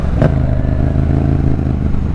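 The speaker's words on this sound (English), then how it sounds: "my bike's sounding more like a Harley than yours" A Harley-Davidson Fat Bob 114 motorcycle with stock exhaust idles close by, a steady loping low rumble with a brief clatter near the start, no voices.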